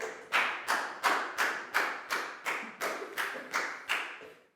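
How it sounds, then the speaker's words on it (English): A classroom gives a student a round of applause, heard as about twelve evenly spaced claps with a crisp attack and short decay, close and steady, with no talking. "High five and a big round of applause for Lakgau, please, guys."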